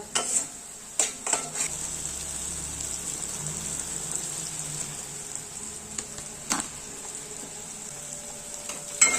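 Thick Marathi-style dhaba gravy for matar paneer malai methi is stirred as it fries in oil, a soft steady sizzle broken by a few sharp scrapes of the spoon against the pan, with no voices.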